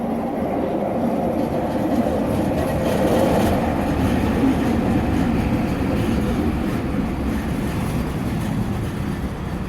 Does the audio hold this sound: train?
yes